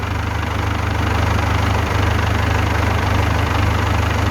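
A Ford 6600 tractor's diesel engine running steadily nearby while ploughing rice fields, with a low, even rumble and a slight knock that keeps going without a break.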